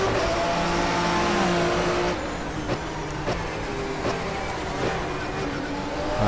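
Simulated 1994 BMW Motorsport touring car engines roar steadily at high revs in the GTR2 racing game at Diepholz, with sharp gear-change cuts and pops breaking the loud continuous drone as the cars race together.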